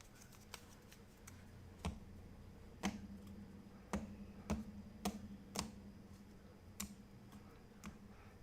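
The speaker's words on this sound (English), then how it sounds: "We shuffle these tiles up." Board game tiles shuffled on a table, a sparse run of quiet, sharp clicks and clacks at irregular intervals over a faint background.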